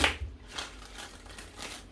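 Soft riffling of tarot cards being shuffled, a few brief papery bursts, close and quiet with no talk.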